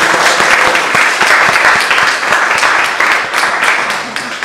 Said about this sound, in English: Please give a round of applause for Austin.